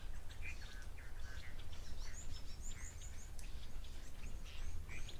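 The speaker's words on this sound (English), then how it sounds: "here in Madikwe, the chinspot battis likes this croaky part of its call" A chinspot batis gives its croaky call at a waterhole in Madikwe, South Africa, a series of faint chirps and harsh notes from other birds over a steady outdoor background hum.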